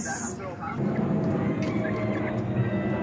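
Chickens clucking and murmuring close by in a coop, a steady busy chatter of birds with a brief high squawk at the start.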